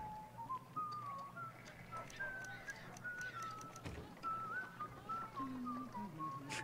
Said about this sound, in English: I like how they're just whistling in the background.